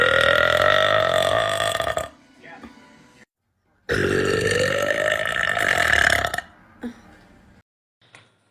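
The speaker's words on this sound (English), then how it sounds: "Why are burps and farts attractive?" A person lets out two long, loud, drawn-out burps close to the microphone, with brief pauses and small noises between them.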